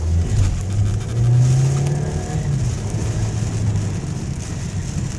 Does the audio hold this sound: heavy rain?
yes